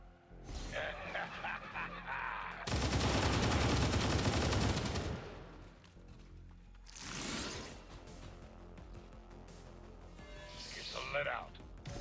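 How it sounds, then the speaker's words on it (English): Soldiers shooting in XCOM 2, bursts of loud automatic gunfire with a dense volley in the middle and scattered shots and impacts after, over a game soundtrack while someone talks. "Just shoot them real good here."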